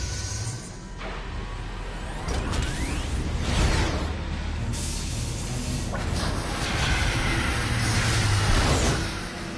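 A train rolls along in a PS4 video game, producing a loud, continuous mechanical rumble with rattling and recurring whooshing surges, and no voices.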